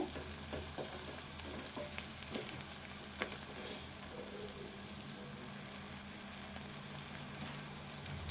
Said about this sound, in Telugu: ఈ మిర్చి ఉల్లిపాయ వేగాలి ఇంకా కొంచెం వేగాలి